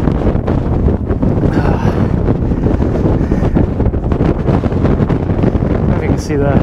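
Strong wind batters the microphone on a mountain hike to Pen y Fan, a loud continuous roaring rumble with gusty surges, and a voice is partly audible beneath it.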